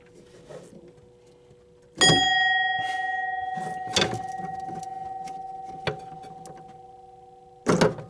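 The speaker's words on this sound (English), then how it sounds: "you're going to hear that bell for the first time since 1960" An old bell, silent since 1960, is struck three times at uneven intervals. Each hit gives a sharp metallic clang followed by a long, fading ring, with quiet clunks and handling noises between the strikes.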